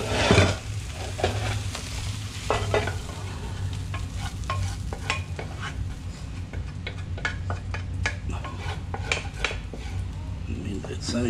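Red-wine mutton stew is stirred in a pot with repeated scraping and clinking of a spoon against metal cookware over a steady sizzle, with occasional pot handling and faint voices.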